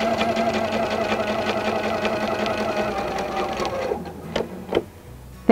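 A sewing machine runs steadily while free-motion quilting with a ruler, a loud continuous whirring stitch rhythm that stops near the end, leaving a few handling clicks and knocks.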